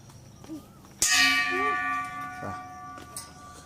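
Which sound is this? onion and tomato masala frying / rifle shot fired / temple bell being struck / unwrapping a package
temple bell being struck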